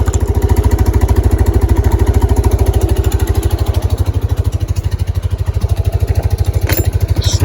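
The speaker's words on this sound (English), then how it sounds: "Everything's idling pretty good." A Kawasaki Prairie 300 ATV engine idles close by with a fast, even chugging pulse that holds steady throughout, with no speech.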